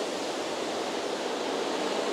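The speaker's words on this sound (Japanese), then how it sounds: "ものすごい水がかかってるよ" Rough sea water crashing and spraying against coastal rocks off the Manazuru Peninsula on Japan's Izu coast in January, a steady broadband wash of surf with no pauses, heard from the shore.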